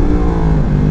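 Yamaha R1 sport bike engine in a racing video game, revving loud and steady for a moment, a dense mid-pitched roar with no voices over it.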